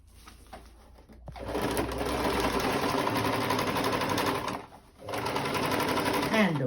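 Sewing machine stitching dining room chair upholstery, a loud close whirring run that starts after a moment, stops briefly, then resumes at full speed.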